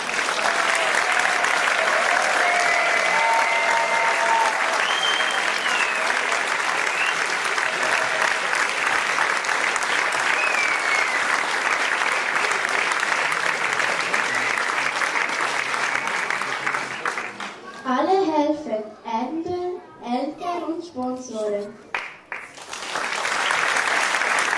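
Sustained audience applause for teachers after an ensemble performance, dense steady clapping filling most of the stretch before a voice speaks over the fading claps.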